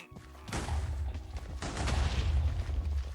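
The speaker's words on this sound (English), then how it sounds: "That was more the amount of explosions I was expecting." Continuous barrage of loud explosions and booming blasts from modded Minecraft, rumbling low and dense, with bursts overlapping throughout and a second heavy wave midway.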